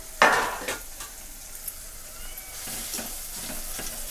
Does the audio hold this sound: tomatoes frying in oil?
yes